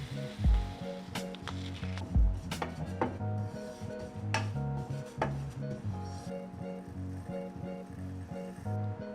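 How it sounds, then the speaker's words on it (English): Sesame seeds toasting in a pan over medium-high heat: light crackling and sizzling with scattered clicks and taps from utensils, close by and fairly quiet. "just toast some sesame seeds on medium high heat until it's lightly"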